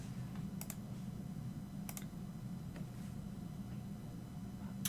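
Computer keyboard keys tapped in short clustered bursts of typing, fairly close, over a steady low room hum with no talking.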